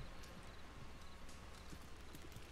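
Faint horse hooves clip-clop in Red Dead Redemption as the animal approaches, a soft irregular patter of footfalls under a steady hiss of game ambience, distant and quiet.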